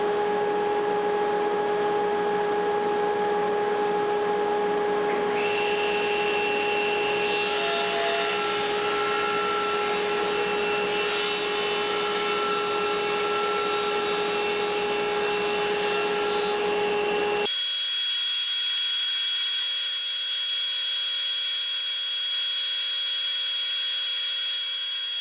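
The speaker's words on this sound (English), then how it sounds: "Now I'll just square up the cutting board here at the table saw, taking off these rough edges" A table saw squares up the rough edges of an end grain cutting board, giving a loud steady whine with strong tonal ringing and a rising cutting roar midway, then cutting off abruptly to a quieter hum.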